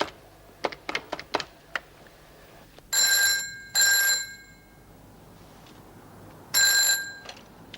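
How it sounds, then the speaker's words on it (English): A telephone rings on an outgoing call. Before the rings come a series of short mechanical clicks, then bell-like rings in repeated bursts with gaps between them, clear and fairly close, with no talk. "Oh, damn, I better ring Pippa"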